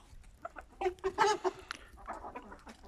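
Indian Game and Shamo chickens cluck close by in a quick, uneven run of short calls, then quieter clucking trails off.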